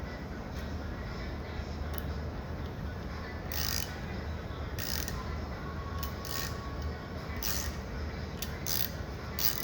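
A SATA ratcheting tap is worked into a piece of hardened steel, making faint, irregular creaking clicks at intervals over a dull background rumble.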